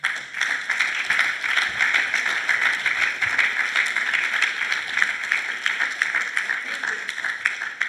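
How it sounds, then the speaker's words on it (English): Sustained applause from a large crowd at a university graduation ceremony, dense and steady, with continuous clapping that holds at an even level throughout. "You definitely deserve the applause of the graduate."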